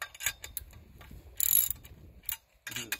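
A socket wrench ratchets as it tightens bolts on a crossarm mounted to a rolled edge line post, giving short bursts of metallic clicking with pauses between, close and fairly loud, with no talking.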